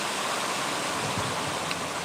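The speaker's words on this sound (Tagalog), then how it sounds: "Sa lukuyan, umuulan. Mahangin," Rain falls steadily outdoors in the countryside on a windy day, a dense even hiss of drops that fills the background without a break, with no voices heard.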